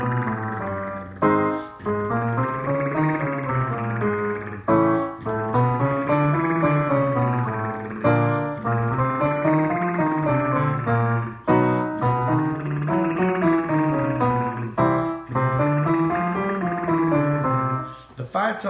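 A singer does a lip roll vocal warm-up on a five-tone scale, buzzing lips carrying a pitched voice that climbs and falls in repeated patterns, with brief breaks between runs, close and steady.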